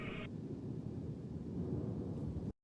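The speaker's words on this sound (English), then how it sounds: "I heard peals of thunder and other tones which nature utters only in her wildest moods" Deep, continuous rumbling of thunder rolls on without a break, low and heavy, with a steady noisy wash over it, then cuts off abruptly.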